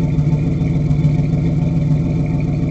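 A 1976 Dodge crew cab engine idles through a 2.5-inch Flowmaster exhaust, giving a steady, loud, deep low rumble with an even pulsing rhythm, close by and with no talking.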